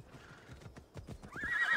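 Clip-clopping hooves lead into a high, shrill horse whinny near the end in Assassin's Creed Odyssey, fairly close and clear with no talking.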